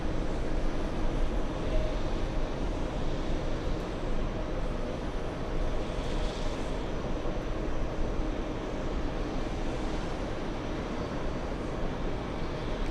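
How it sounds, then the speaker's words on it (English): Delta 767 airliner landing on nearby runway 22 right at JFK beside the TWA Hotel, a continuous broadband jet roar that stays loud and steady for the whole stretch, with a faint rising whine in the middle. "the LA flight 767 Delta from Los Angeles landing on the closest runway to us, 22 right"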